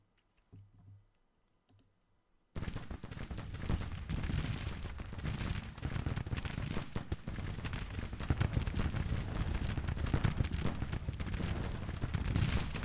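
Short-range gunfire in Grand Tactician: The Civil War crackles as a dense, continuous volley of musket shots after a brief quiet opening, loud and sustained with scattered sharp reports.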